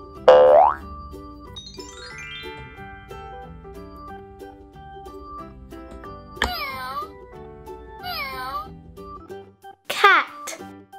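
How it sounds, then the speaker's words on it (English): A cartoon-style cat meow in a children's farm animals lesson, a short bright call amid a musical jingle with boing effects, followed by further high chirpy cries. "Cat."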